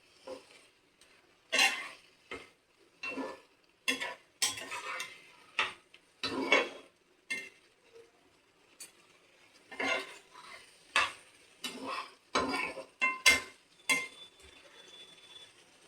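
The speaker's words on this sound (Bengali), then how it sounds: "সব মশলাগুলোই তাহলে একসাথে আমার ভাজা হয়ে যাবে" Ground spices (cumin, turmeric) fry in a pan as a utensil stirs and scrapes them, giving irregular close clinks and scrapes over a faint sizzle, with no talk.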